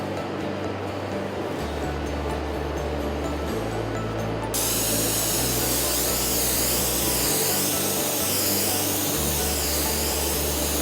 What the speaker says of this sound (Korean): 2에서 3회 도장합니다. 이때 중도용 스프레이건 사용을 추천합니다.